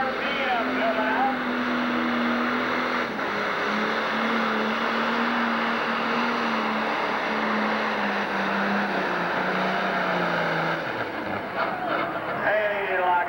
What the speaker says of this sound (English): He kept cutting her back, trying to get her to hook and nail the throttle again.